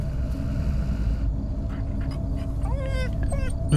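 Dog in the horror video game Fears To Fathom, giving a few short whimpering yips near the end over a steady low background rumble.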